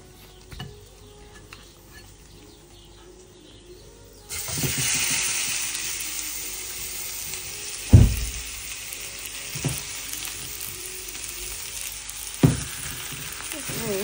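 Sea bream (dorado) pieces coated in spices frying in a pan with browned onions; a steady loud sizzle begins partway in, with a few sharp stirring knocks and clatters over it, no talking.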